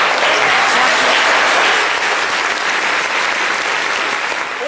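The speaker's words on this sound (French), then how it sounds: "On applaudit pour Agnès." Studio audience applauding on a French-language radio or TV call-in show, a dense, steady wash of many hands clapping close and loud throughout with no voices over it.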